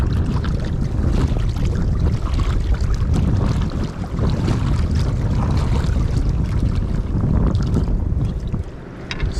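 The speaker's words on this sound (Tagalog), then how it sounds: "Ang laki ng alon na yan, ah." Big sea waves crash and slosh against a small wooden fishing boat at sea, a loud continuous rush of water and buffeting wind with no voices.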